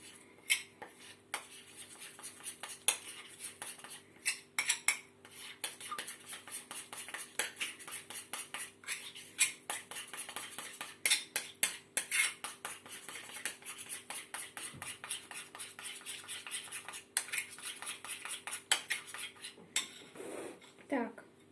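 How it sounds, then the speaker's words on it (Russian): Utensil stirring sourdough starter with its feed in a separate dish, clinking and scraping in quick irregular taps against the dish, steady and close throughout with no talk. "Размешиваем в отдельной посуде"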